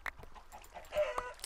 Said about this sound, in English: There was no chicken, like, only chickens were in that pen